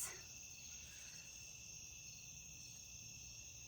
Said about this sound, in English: You still hear the frogs and crickets.